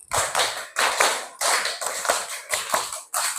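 Hands clap out a five-beat rhythm in repeated sets, each burst of close, sharp claps separated by brief pauses, with no talking.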